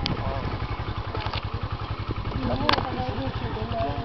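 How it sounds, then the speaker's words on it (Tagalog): A motorcycle engine labours on a steep hilltop trail, a continuous mid-pitched throbbing idle and rev with a steady pulsing beat, fairly close, heard under outdoor background noise. "Hindi yata umahon yung motor ni Mata."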